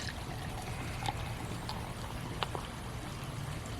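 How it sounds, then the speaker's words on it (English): Michelob Ultra Pure Gold beer is poured aggressively into a glass, a steady hissing, bubbling stream with a few small clinks and splashes over several seconds, fairly quiet and without talk. "I'm gonna pour it in a glass"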